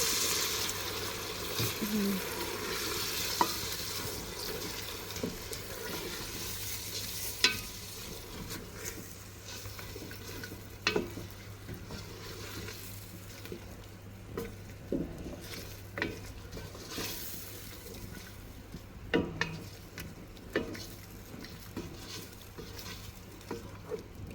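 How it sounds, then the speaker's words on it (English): A pot of lamb and potato curry with crushed garlic and ginger is stirred, with soft sizzling and scattered utensil clicks and knocks against the pot running throughout. "So I'll just stir everything up."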